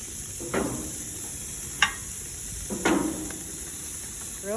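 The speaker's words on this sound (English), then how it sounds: "once our grill is heated up, we're just gonna place our frozen patties and we're gonna place them on there and cover it for 4 minutes" Frozen burger patties hitting a heated grill give a low, steady sizzle, broken by a few short, sharper hisses and crackles as each patty lands. The cooking sounds are close and fairly quiet, with no talking.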